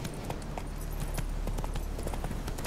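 Horse hooves gallop in The Witcher 3 video game, a steady, rhythmic clip-clop that runs throughout at moderate loudness over a low rumble of game ambience.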